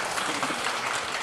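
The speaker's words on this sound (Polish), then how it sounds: "Jeszcze raz wielkie brawa." Brief, dense applause from an audience at an awards gala follows a jazz trio of clarinet, double bass and drums, a short burst of steady clapping.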